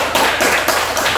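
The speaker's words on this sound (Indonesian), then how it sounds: "kita berikan tepuk tangan dulu" A classroom of students claps after group presentations, giving a close, loud burst of hand claps in a few quick pulses with no voices over it.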